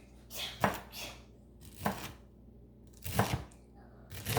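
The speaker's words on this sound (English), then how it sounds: "So I'm simply just going to chop up my kelp noodles" Knife chopping drained kelp noodles into coarse pieces on a board, four or five distinct crisp cuts spaced about a second apart, close and moderately loud in an otherwise quiet kitchen.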